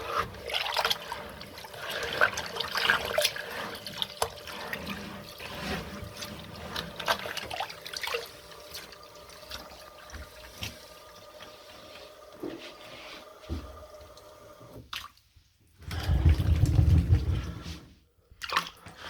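Aquarium sand being washed with water, with a continuous trickling and sloshing, then a louder burst of pouring and swirling near the end.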